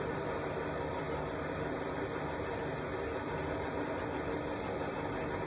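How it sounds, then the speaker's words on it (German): A drill grinds steadily into a Honda CB900 motorcycle frame, one continuous harsh whirring noise with no pauses. "deswegen bohre ich jetzt hier die Löcher rein"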